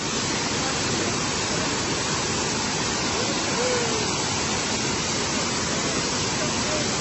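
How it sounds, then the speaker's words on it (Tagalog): A waterfall in Branson, Missouri, a steady loud broadband rush of falling water without a break, filling the whole stretch. "Waterfall."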